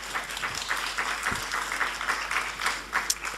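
Applause from an audience at a self-employed entrepreneurs' conference in Paris, a short burst of moderately loud, steady clapping from many hands.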